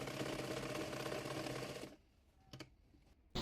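A sewing machine stitches the waist layers of a baby frock in one close, steady run of rapid whirring that stops abruptly, followed by a few brief clicks and a last short burst.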